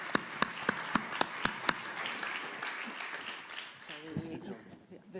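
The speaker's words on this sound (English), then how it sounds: "a big applause for our panelists" Audience applause for panelists closing a conference session on landscape restoration, a few sharp individual claps at the start blending into a broad wash of clapping that fades out as voices take over.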